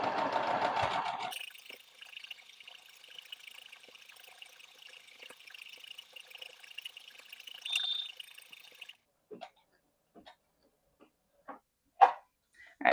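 Brother SQ9285 sewing machine stitching an embroidered word, starting after a brief burst of noise with a steady, faint mechanical whir and rapid needle ticking for several seconds, then falling quiet apart from scattered small clicks and handling taps.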